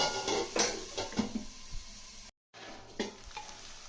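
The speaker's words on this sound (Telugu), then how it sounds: "చూడండి ఇలా వేగినాయి కదా." Vegetables, including potatoes, frying in a pan for a mango mixed-vegetable curry, with crackling sizzle and scraping stirs against the pan, a brief silent gap midway, close and clear.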